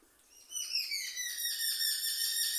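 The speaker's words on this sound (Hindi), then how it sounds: "ये जो चिड़ियों की आवाज आ रही है" Birds chirp in a village area, a few clear, bright whistled calls repeating close together and fairly near, with no other sound around them.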